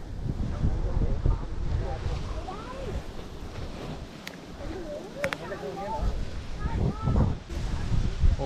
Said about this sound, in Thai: มาเก็ตนี้ลมแรงมากนะครับเป็นพื้นที่แบบโล่งอะนะครับ